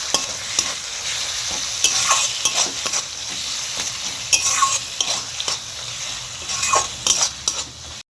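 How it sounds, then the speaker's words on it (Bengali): Spice paste with sugar and tomato sauce being stir-fried in oil for a red chicken curry, a constant close sizzle with frequent metal spatula scrapes and clinks against the pot throughout; no one speaks. "দিয়ে ভালো করে মশলাটা কষিয়ে নেব।"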